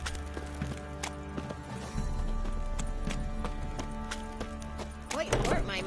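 Hooves clip-clop in an even walking rhythm under background sounds from The Witcher 3: Wild Hunt, with a horse snorting near the end.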